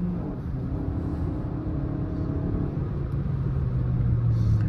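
A Suzuki Fronx 1.2 engine pulls in second gear, a steady low rumble with some rising revs that builds slightly toward the end, heard from inside the car with no talk.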